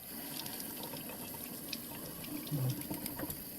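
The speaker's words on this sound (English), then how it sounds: "Rinse them like this." Sprouting seeds being rinsed under a running kitchen tap, water pouring steadily into a sink with a brief splashy swell near the end, no voices.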